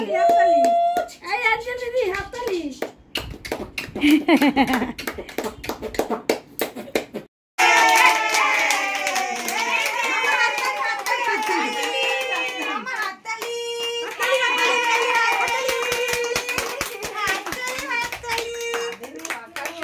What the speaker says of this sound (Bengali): হাততালি দাও, হাততালি দাও, হাততালি দাও মাম্মা, মাম্মা হাততালি, হাততালি